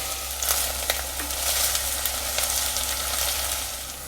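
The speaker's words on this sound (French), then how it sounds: "On dépose l'oignon dans l'huile, on va faire frire quelques instants." Onion fries in olive oil inside a cast-iron pot, making a steady close sizzle with a few soft crackles and faint stirring taps, with no one speaking.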